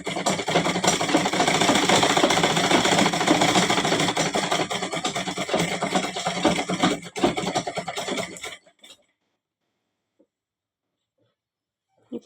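An electric sewing machine runs in a fast, steady whirring stitch on a lungi for about eight seconds, close and loud, then stops abruptly, leaving near silence with a faint click at the end.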